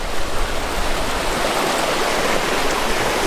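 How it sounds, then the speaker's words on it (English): Steady, close roar of a fast-flowing creek rushing over rapids in the Superstition Wilderness, dense and unbroken throughout. "this river or creek or whatever is raging. It's a lot of rapids."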